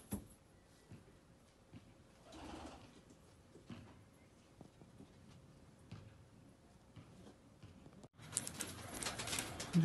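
A Cheena pigeon pair cooing softly and faintly, with a low murmuring coo near the start and quiet ticks over a hushed background, before a sudden loud noisy burst at the end.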